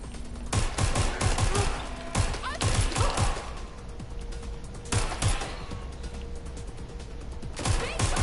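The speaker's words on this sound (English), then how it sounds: "I'm taking fire! Purse is shooting!" Bursts of automatic gunfire crackle in the Watch Dogs Legion video game, several volleys spread across the clip over a low ambient hum, with faint speech underneath.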